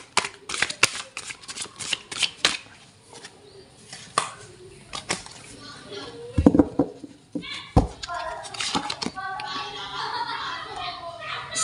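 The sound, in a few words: shuffling tarot cards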